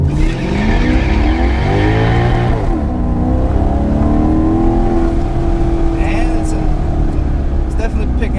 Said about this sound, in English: we're gonna do a little first gear launch here